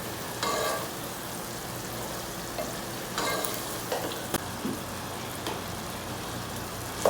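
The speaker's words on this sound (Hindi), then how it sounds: "अब इसको अच्छे से भून लेते हैं।" Masala for karela chicken is frying and being stirred in a pan, making a continuous sizzle. Several louder scrapes and stirs of a spoon break through it, with no talking.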